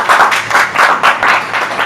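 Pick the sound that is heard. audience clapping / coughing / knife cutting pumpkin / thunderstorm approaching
audience clapping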